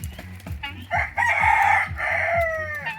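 Chickens and turkeys on a farm, with heritage chickens among the birds, giving close, loud clucking and crowing calls that overlap in a busy flock chorus.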